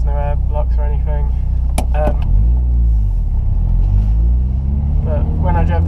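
Steady near engine rumble of a Peugeot 106 Rallye on a town drive, rising briefly in pitch as it accelerates midway, while someone talks over it at the start and end.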